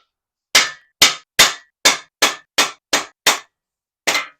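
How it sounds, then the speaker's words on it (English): Dead blow hammer slamming engine cam bearings out of their bores: nine sharp, loud strikes in a steady rhythm, each with a quick decay, followed by a short pause and one last blow. "get you a dead blow hammer"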